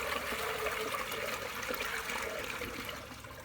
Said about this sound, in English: Alright, I'm gonna do one more flush and that's it.